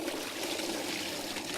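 Water pours steadily back into a Garden Tower 2 vertical planter system, a continuous close trickling rush with no break and no talking.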